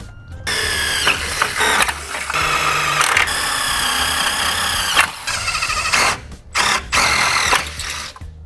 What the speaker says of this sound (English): So now we have all our holes drilled